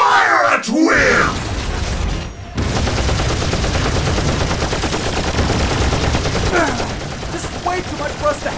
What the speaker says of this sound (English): transform and fire at will!